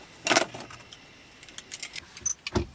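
A 2005 Toyota ES330 car key jangles and clicks as it is handled and a new chip is swapped in, with light metallic rattles and taps close by, no talk.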